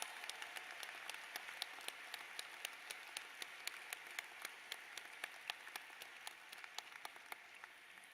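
Commencement audience at Florida Gulf Coast University applauds faculty and staff, a faint, distant wash of crowd clapping with a few sharper individual claps standing out at a steady pace.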